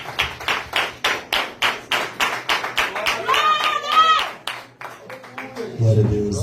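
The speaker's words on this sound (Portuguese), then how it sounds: "Aplaude Jesus, recebe o sangue do Senhor com as palmas" A church congregation claps in steady rhythmic unison during an evangelical service, with loud repeated hand claps for several seconds before voices and singing-like speech take over and the clapping fades.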